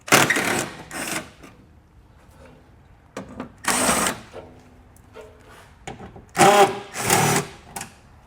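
An 8mm socket working bolts loose beneath the bumper of a 2015 BMW X5 gives a series of short, close, rattling mechanical bursts separated by quieter gaps, with no voices.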